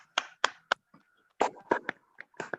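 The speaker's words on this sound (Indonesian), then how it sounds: "beri aplaus untuk kelas 10 IPA 1" Scattered, sparse handclaps from a small class of students, a few separate bursts of clapping with short gaps between them, close and fairly soft, without talk.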